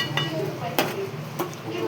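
A spoon stirs chicken curry seasoned with garam masala, chili powder and salt in a pot. It gives soft scraping and a few sharp metallic clinks against the pot over a faint sizzle, close by, with no talk.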